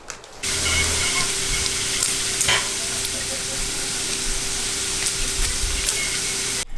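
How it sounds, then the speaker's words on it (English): Steady loud sizzling of bacon in a pan, with scattered sharp pops and crackles throughout, close up and without voices. "I had to leave some of that bacon popping noise in there"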